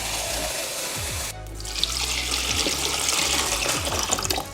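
Water poured from a bowl into the tank of a COMFYHOME 3-in-1 portable air conditioner fan, a steady close splashing stream that shifts pitch partway through and continues to the end, with no voices.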